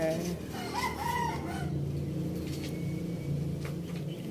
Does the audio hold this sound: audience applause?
no